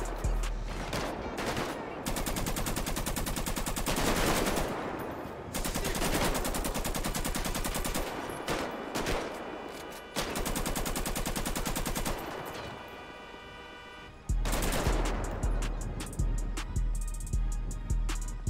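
In the video game GTA 5, gunfire rips out in long rapid automatic bursts, loud and close, separated by short gaps, with a final run of heavier single shots.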